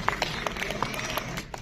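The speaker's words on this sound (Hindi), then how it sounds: "मेल्स में तालियां बजा रहे हैं" Audience clapping at a closing cultural ceremony for Audit Diwas 2025, a brisk patter of many hands with distinct sharp claps standing out, moderately loud and fading slightly at the end.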